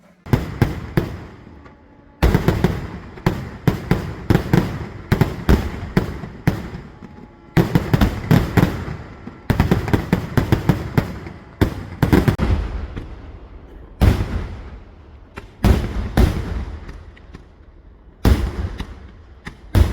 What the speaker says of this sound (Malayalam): നമ്മൾ വെടിക്കെട്ട് കാണാൻ വേണ്ടിയിട്ടുള്ള സ്ഥലം കണ്ടുപിടിച്ച് അവിടെ ചെന്നായിരുന്നു